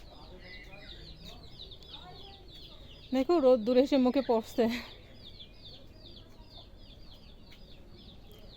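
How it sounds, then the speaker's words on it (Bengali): Chickens cluck repeatedly in the background while a person speaks briefly over them outdoors. "ওদিকে মুরগির ডাক শোনা যাচ্ছে"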